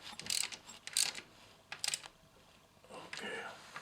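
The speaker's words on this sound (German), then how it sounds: "Jetzt auf 4 Newtonmeter und dann zieht er die Feststellschraube an." A torque wrench tightening the locking bolt during a thermostat valve replacement on a Passat 35i with the 2E engine, heard as a few short sharp ratcheting bursts with quiet gaps between them.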